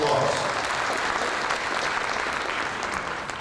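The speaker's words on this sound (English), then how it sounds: "Could we also give him a round of applause?" A large audience at a Kenyan peace convention applauds the Vice President of Kenya, producing a loud, dense wash of clapping that holds steady for a few seconds, with a faint voice underneath.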